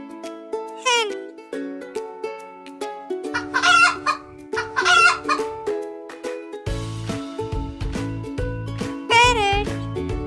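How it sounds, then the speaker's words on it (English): A hen clucks loudly and repeatedly in short bursts up close, mixed with rooster-like crowing calls, and no talking. "Hen."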